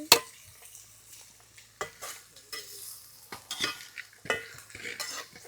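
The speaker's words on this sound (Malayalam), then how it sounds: "ഇഞ്ചി ഇഞ്ചി വറക്കുവാ" Ginger frying in a pan, a soft sizzle broken by repeated scrapes and clinks of a spoon stirring against the metal.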